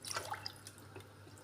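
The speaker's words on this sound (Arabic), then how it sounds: "ونضيف عليه كاس تاع ماء" A glass of water poured into a cooking pot for a khobzet ktaif syrup, a short splashing trickle close by, fading to faint drips within about a second, with no talking.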